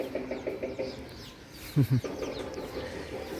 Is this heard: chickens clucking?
yes